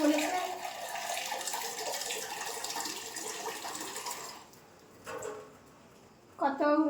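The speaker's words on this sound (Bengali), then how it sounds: "চালটাও ধুয়ে দিলাম, চালটাও ধুয়ে নিয়েছি।" Rice being washed under running water: a steady close gush from a tap that stops, followed by short splashes and sloshing in the pot.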